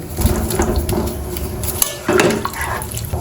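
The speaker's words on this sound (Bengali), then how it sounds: "এবার দিয়ে দেবো ভেজে রাখা আলু" Fried potatoes go into a pot of meat curry, giving close clattering knocks of a utensil against the metal pot over a wet, bubbling background, with a louder clunk near the end.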